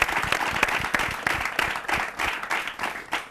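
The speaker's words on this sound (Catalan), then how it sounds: "Un fort aplaudiment també per ells." Steady applause from a TV quiz show studio audience, many hands clapping densely and loudly with a few sharper claps standing out, sustained throughout.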